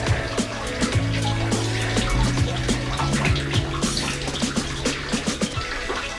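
A mountain stream at Wadi Shees in Oman splashes and gurgles steadily nearby, with scattered drips and trickles over a continuous rush of water.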